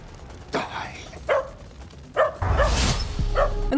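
Dogs bark in Cowboy Bebop, with several sharp yips and bow-wows coming in short bursts. Voices talk over and around them, and a rising, hissing commotion builds toward the end.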